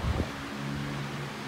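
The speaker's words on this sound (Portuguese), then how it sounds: "E o ventilador aqui vai fazer o barulho" An electric fan runs close by during a hot day indoors, giving a steady low hum with a faint whirring drone and a soft airy hiss, without any talk.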